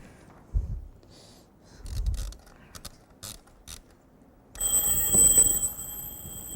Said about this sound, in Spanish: Traje aquí un despertador,